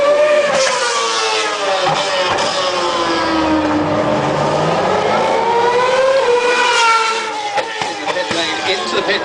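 A Formula 1 car at the 2008 Singapore Grand Prix, driven by Kubica, heading into the pits: a loud, high engine whine that sweeps down and back up in pitch as it slows and accelerates, under a commentator's voice.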